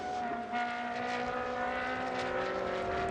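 A pack of Ferrari 458 race cars with 4,400cc engines races during a round at Jerez de la Frontera, a continuous high-pitched engine howl at a distance that holds steady and fairly faint, with no voices.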